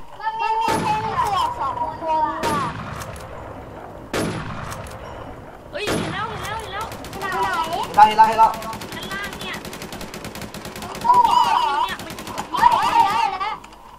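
Gunfire in the online shooter Warz Zyber comes as sharp single shots and rapid bursts spread through the clip, mixed with excited shouting voices.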